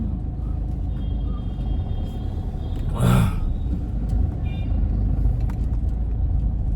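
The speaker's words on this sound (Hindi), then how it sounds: "तो गाड़ी आ रही थी तो मेरा गाड़ी पे तो ध्यान है ही" A vehicle passes on a road outside, a steady rumble with a brief louder swell as it goes by, heard alone without speech.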